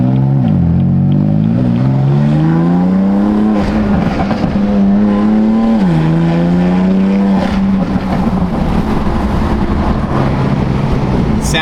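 A BMW M4 fitted with front mount intakes revs loudly and continuously, its engine pitch climbing, dropping and climbing again as the throttle is worked, close up and with no talk over it.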